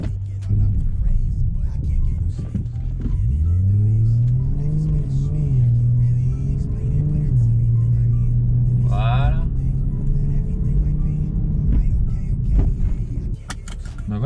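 Subaru Legacy R estate car driving around the block, its engine rumbling steadily throughout with a rise in revs partway through, heard from inside the cabin; a brief whirring click sounds in the middle.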